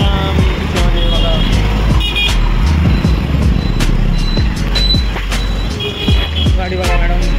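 Road traffic jam with a dense, steady rumble of car and truck engines, broken by repeated beeping horns and reversing beeps, loud and close throughout.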